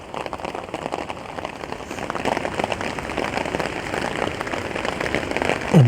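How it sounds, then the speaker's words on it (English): Heavy rain pelting a large rock platform and splashing onto a hammock under a small tarp at a night camp, a steady, dense close-up patter that grows slightly louder toward the end. "The rain's bouncing off the large rock, or the platform that I use to step in and out of the hammock."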